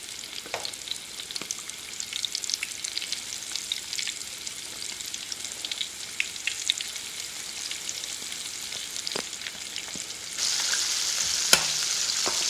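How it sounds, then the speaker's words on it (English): Cornstarch-coated chicken wings for Thai wings crackle in hot oil with a steady patter of pops and spits, swelling into a louder, fuller sizzle near the end, no talking. "We're just going to fry them until they're nice and golden brown."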